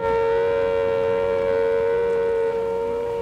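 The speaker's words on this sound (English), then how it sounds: "That siren sound, it's just so evocative." An air raid warning siren wails in a steady, loud sustained tone with layered harmonics, holding without a break and with nothing else heard.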